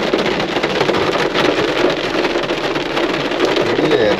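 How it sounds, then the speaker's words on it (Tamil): Heavy rain pours down on a car stuck in a traffic jam on the road trip from Chennai to Sabarimala, a dense, loud, unbroken hiss of drops drumming on the vehicle with no talk. "கடந்த ஒரு 3/4 மணி நேரமாக செம மழை பெய்யுது."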